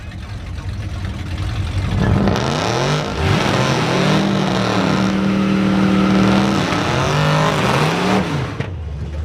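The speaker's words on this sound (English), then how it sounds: "I hear that distinct engine, and I know one thing for sure, that he's the truck." A drag racing truck's loud engine roars and revs up, its pitch climbing and dipping as it accelerates, with the rumble filling the whole stretch.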